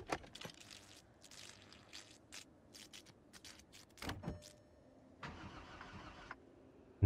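A car engine cranks and starts after hotwiring in Project Zomboid, with clicks and clunks, several short cranking bursts, then a steady whirring hum, all fairly quiet.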